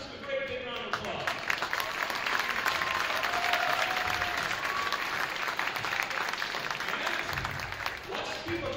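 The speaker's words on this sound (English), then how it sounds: "We please give our officials a great big round of applause" Sustained crowd applause fills a school gym as spectators honor the basketball officials at a girls varsity game, steady and dense for the whole stretch.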